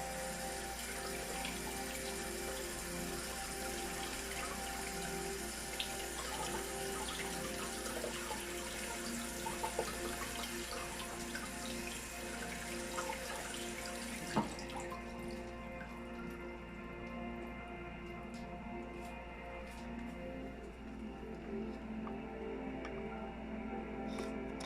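Tap water running steadily while philodendron wendlandii roots are rinsed in a sink, a constant close rush with faint drips; the flow thins and quiets partway through, with no talking.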